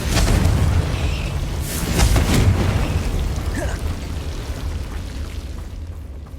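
A Confringo explosion spell goes off in the Hogwarts Legacy video game: a heavy, rumbling boom with crackling debris that swells and then slowly fades over several seconds. No voices.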